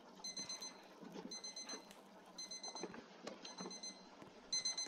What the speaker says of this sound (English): what's that alarm clock beeping?